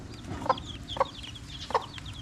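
A mother hen kept with her chicks clucks in three short, sharp bursts about half a second apart over a quiet, low background, with no talk.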